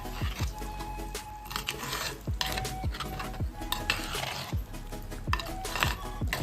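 Avial, a mixed-vegetable dish for an Onam feast, being stirred in a pot, with repeated scraping and clinking of a spoon against the metal in a steady, close rhythm over a low background hiss.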